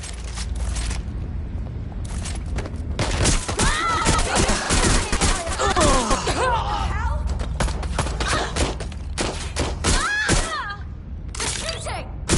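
Gunfire in the video game Watch Dogs Legion, with repeated bursts of shots, crashes and breaking impacts spread across the scene, loud and close, with shouting game voices mixed in.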